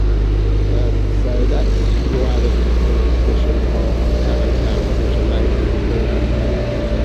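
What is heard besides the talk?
taxis driving past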